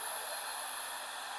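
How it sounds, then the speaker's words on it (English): An old flowered travel hair dryer blows on wet paint on a large canvas, a steady, bright whooshing roar that stays constant and close with no pauses. "taking the good old flower travel dryer that was pink at one time"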